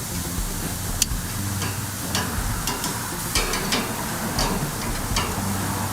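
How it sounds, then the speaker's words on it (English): Broccoli sizzles on a hot grill, a steady close hiss and crackle with a few sharp ticks and pops scattered through it. "we're gonna have some great grilled broccoli"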